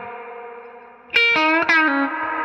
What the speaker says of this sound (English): That is the vintagiest, splashiest reverb that I have in my arsenal